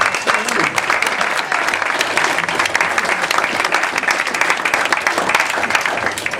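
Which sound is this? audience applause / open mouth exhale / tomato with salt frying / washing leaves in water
audience applause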